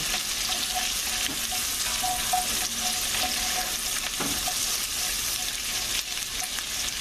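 Vegetables sizzle and fry steadily in a pan while being softened for a bread soup, a dense continuous hiss with faint stirring scrapes, no talking.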